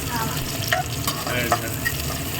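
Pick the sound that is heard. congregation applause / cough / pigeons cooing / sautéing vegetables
sautéing vegetables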